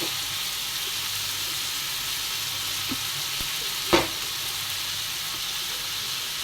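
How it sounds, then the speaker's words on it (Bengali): Spices being stirred into tomato chutney in a frying pan, a steady soft sizzle and scrape running throughout with one brief clack midway, no voices. "নাড়াচাড়া দিয়ে মিশিয়ে নিয়ে নিই।"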